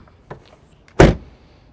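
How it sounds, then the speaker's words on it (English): A single solid thud marks the closing door of a 2027 Kia Seltos EX, close and loud, preceded by a faint click of the latch handle, with no voices. "let's listen to the sound of the closing door."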